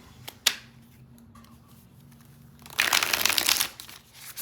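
Tarot cards being shuffled by hand: a couple of sharp taps, then about a second of dense, crisp riffling and crinkling up close, fading out after a quiet pause.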